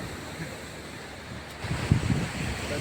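Sea waves wash in against a steady rush of wind at Chowpatty Beach in Porbandar, with a louder surge of surf breaking nearby partway through.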